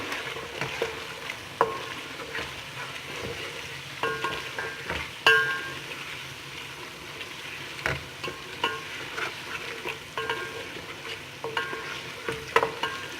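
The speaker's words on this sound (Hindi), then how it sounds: "इसको अच्छी तरह भून लेना है।" Mutton pieces for tomato gosht frying in a pot and stirred with a spoon, a steady sizzle broken by repeated scraping stirs close by.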